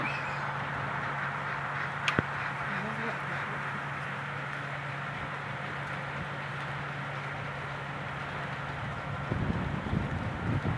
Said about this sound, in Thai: อู้ลมพัดมาเลย